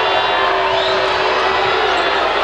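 A packed arena crowd roars loudly and continuously at a Ball State vs BYU women's college basketball game as a player grabs a rebound, a dense wall of cheering and shouting close around the listener.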